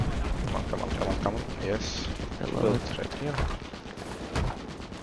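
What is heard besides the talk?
Fedorov Avtomat rifle gunfire in the video game Enlisted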